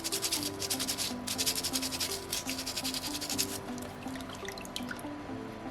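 Coarse 60 grit sandpaper rubbing over a small soapstone Moai carving, a steady series of close, quiet back-and-forth scratchy strokes in a regular rhythm.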